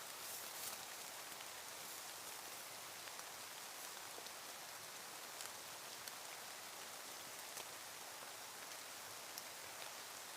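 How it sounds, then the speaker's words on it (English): Steady rain pattering on a wilderness campsite along the Kungsleden trail, a dense, even hiss of drops with faint scattered ticks throughout, no voices. "It's raining."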